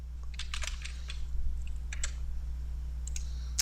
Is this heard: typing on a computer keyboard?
yes